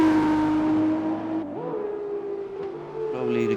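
Formula 2 race cars at Imola in a racing game, a sustained engine drone that drops in pitch and then climbs again, loud and continuous, with commentary talk over it.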